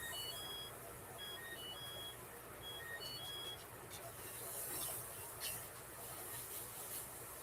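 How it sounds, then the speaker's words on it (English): Kitchen timer beeping to signal French fries are done, several short, thin electronic beeps in quick bursts, faint against a quiet background hiss and some rustling. "that was my timer for my French fries"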